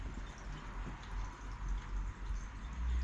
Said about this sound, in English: It's pouring out somewhere.